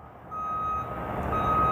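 A garbage truck's reversing alarm sounds a few steady beeps at a moderate distance, over low rumbling traffic and engine noise.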